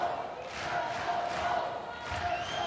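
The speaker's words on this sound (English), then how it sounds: "Crowd getting involved with the Noles within 2 points of winning the third" Crowd at a college volleyball match between Georgia State and Florida State rises in cheering and shouts, moderately distant and swelling in waves beneath arena noise.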